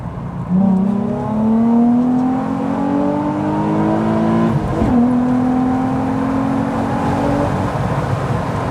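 A Nissan 350Z's naturally aspirated V6 engine revs steadily upward through gears with a smooth rising tone, a brief dip midway, then climbs again; continuous and fairly loud, no talking.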